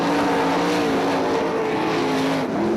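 Sprint cars racing on the dirt oval at Crystal Motor Speedway, a loud continuous engine roar with rising and falling tones as the pack battles for position near the finish.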